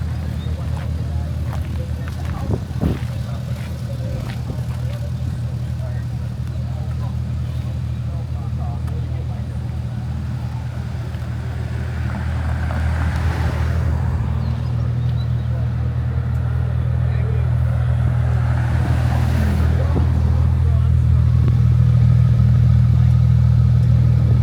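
Porsche GT4 RS running during a drive, a steady low engine drone that builds gradually louder over time with road and cabin noise and occasional voices talking.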